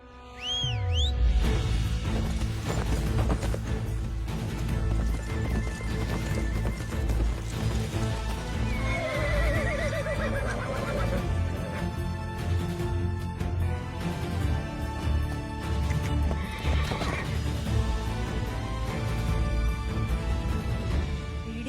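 A horse whinnies loudly and clearly, followed by steady clip-clop of hooves beneath a full orchestral film score that plays throughout, with no talk.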